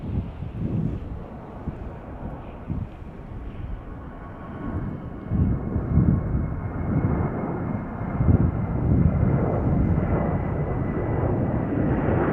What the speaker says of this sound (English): We have another departing aircraft.